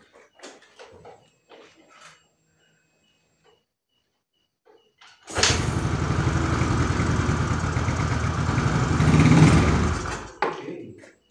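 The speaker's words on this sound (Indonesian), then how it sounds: "Nanti mesin dihidupkan, coba di sini kasih bensin sedikit aja, jangan banyak-banyak. Terus kita coba digeber." A Yamaha Mio Soul GT scooter with a fault that lets it start but makes it stall on throttle engages abruptly after quiet sounds, runs steadily for about five seconds, rises briefly as it is revved, then cuts out.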